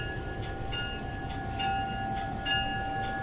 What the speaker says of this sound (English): How often do you get a ride on a train?